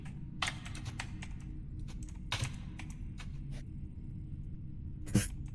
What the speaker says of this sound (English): I can hear typing noises